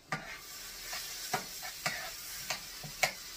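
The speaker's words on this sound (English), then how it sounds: "I'm just going to kind of let that get melted and get everything kind of mixed in there." Butter melting in a pan while being stirred, a soft steady sizzle broken by a handful of sharp utensil scrapes at irregular intervals, close and fairly quiet.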